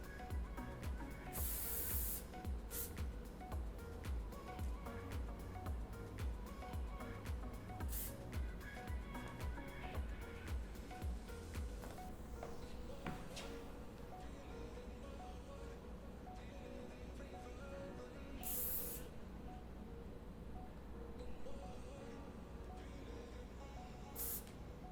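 Strong hairspray hisses onto styled hair in a ponytail upstyle, with several short bursts and a few longer sprays at close range, and quiet handling sounds in between.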